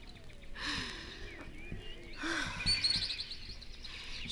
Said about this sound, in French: Et ils reconnaissent la voix de leur petit oiseau